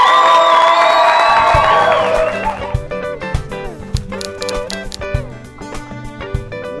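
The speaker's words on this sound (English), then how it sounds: "big round of applause for that." A crowd cheers and whoops loudly at a government welcome event for a climate train between Pietermaritzburg and Durban, the burst lasting a couple of seconds before giving way to rhythmic music.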